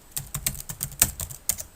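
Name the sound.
typing on a computer keyboard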